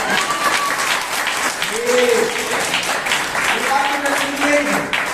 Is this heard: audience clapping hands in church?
yes